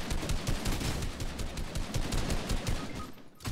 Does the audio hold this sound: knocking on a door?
no